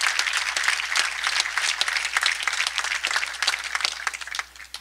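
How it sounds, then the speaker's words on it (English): Audience applause fills the room at a corporate special announcement on King Street, a dense, steady crowd clapping sustained throughout, fading slightly at the end. "Let's give them a big round of applause."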